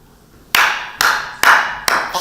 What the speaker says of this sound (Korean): 박수 보내지 않나요, 여러분?